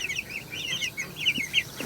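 Barred Rock and Cornish Cross chickens cluck in a steady run of short, close calls with no one speaking.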